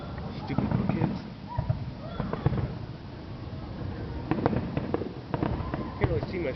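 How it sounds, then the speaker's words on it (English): Fireworks crackle and pop on Bonfire Night in London, with scattered sharp bangs and sputtering bursts at a middle distance as people talk nearby. "Fireworks."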